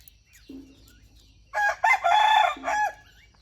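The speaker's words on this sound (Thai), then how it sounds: "ไก่กำลังหาไข่" Chickens in a rural Thai village: a short cluck, then a loud rooster crow made of several drawn-out bursts close by, over a low background hum.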